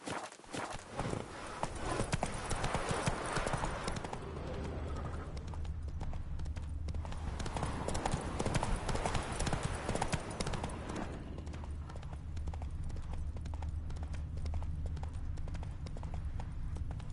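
Hooves of Roach, a horse in The Witcher game, clip-clop steadily at a brisk gallop-like pace, close and continuous across the whole stretch, with a low ambient bed beneath.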